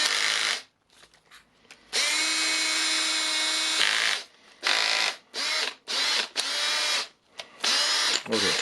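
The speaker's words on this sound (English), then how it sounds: "so we have a nice working drill" A Makita DDF482 cordless drill whirs in repeated bursts, one long steady run in the middle and several shorter triggers after, loud and close with brief gaps of near silence between them.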